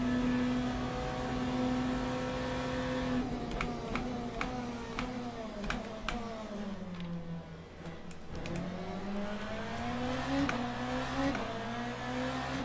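A hypercar engine in the racing game Le Mans Ultimate drones loudly and continuously, its pitch dipping and climbing with gear changes and throttle, with clicky transients scattered over the whine.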